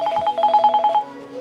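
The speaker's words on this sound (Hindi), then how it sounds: "फोन बाजन लग गए" A telephone rings in a home during a Haryanvi family drama, a rapid electronic trill in quick repeated bursts for about a second, then fading to quiet room tone.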